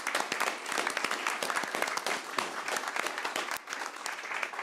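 Steady applause from a crowd at a city commission meeting, dense overlapping claps holding at an even level for several seconds with no voices standing out.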